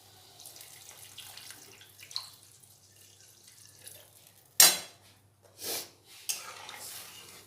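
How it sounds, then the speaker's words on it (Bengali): Water poured into a hot pan of fried eggplant, onion, green chili and turmeric: a quiet low murmur, then a sudden loud hissing splash followed by a few shorter gushing bursts. "এবার ওতে জল দিয়ে দেবো।"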